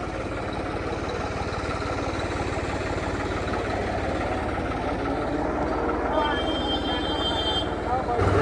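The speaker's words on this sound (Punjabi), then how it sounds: "ਟਰੈਕਟਰ ਉੱਚਾ ਉੱਚਾ ਹੋ ਗਿਆ ਮਗਰੋਂ ਚੱਲਣ ਲੱਗੇ ਆ ਸਤਨਾਮ" A low engine rumbles steadily nearby, a tractor fitted with BKT radial tyres chugging along with a continuous throbbing drone.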